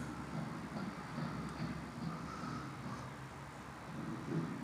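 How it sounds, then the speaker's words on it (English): Southern Pacific T-31 steam locomotive No. 2353 easing slowly backward to couple onto its freight train in the 1950s, a steady low rumble and rolling drone with no speech. "The engine moves slowly in reverse to come on to her train."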